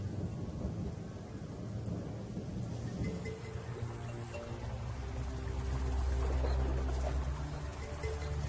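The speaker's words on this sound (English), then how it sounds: "just as I thought all was lost, the rains came" A thunderstorm breaks a drought on the African savanna, with low rolling thunder rumbling under a steady hiss of rain; the storm sound is continuous and fairly strong throughout, swelling deeper toward the end.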